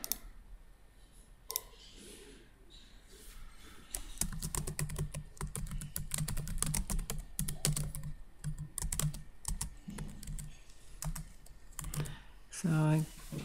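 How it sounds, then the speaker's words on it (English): A password is typed on a computer keyboard in quick bursts of close, crisp key clicks, uneven in rhythm, with a few louder clacks near the end and no talking. "And now I'll type in the password here."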